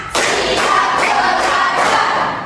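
A classroom group claps hands together in a counted pattern, with several sharp, loud unison bursts of clapping in quick succession, close and lively.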